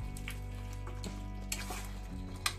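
Chicken leg pieces frying in a pan, a steady close sizzle with a few soft clinks and scrapes from stirring.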